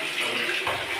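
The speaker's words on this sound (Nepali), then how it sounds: "पानी भरिरहेको छु" Tap water runs steadily into a container while a household chore is under way, a continuous broadband gush heard close and moderately loud with no talking.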